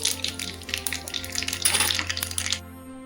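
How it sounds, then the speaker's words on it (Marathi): Cumin seeds crackle and spit in hot oil for a cucumber dish, a dense, close run of sharp pops and sizzle that continues steadily, then cuts off abruptly. "बघा ही कडकडीत फोडणी"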